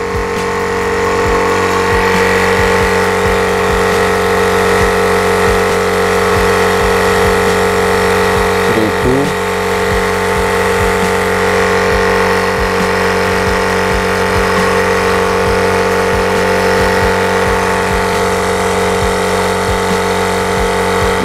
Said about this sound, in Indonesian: kalau udah sampai di 1500 akan mati sendiri ya kompresornya ini